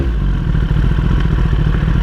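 A 2021 Kawasaki ZX-10R with a flashed ECU runs in neutral, its engine making a loud, close, steady idle with a fast, even mechanical pulse and light clatter.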